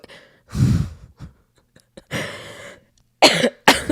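Several harsh, close coughs in separate bursts, the last two quick and forceful, with heavy breaths between them.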